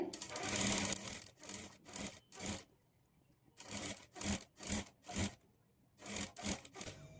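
A sewing machine stitches invisible thread piping onto a blouse, running in about nine short bursts separated by brief pauses, with one longer gap in the middle; close and steady, with no voices.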